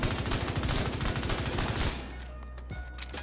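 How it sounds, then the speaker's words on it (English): Rapid, loud gunfire bursts from a shotgun in The Division 2, packed tightly for about two seconds, then cutting off to a quieter room tone with a couple of faint clicks. "This is the damage that I'm doing currently with the shotgun"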